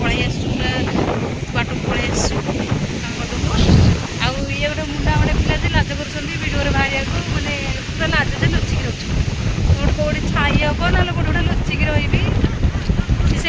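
Sea waves wash onto the shore in a steady broadband roar, heavily mixed with wind buffeting the microphone, while people talk over it throughout.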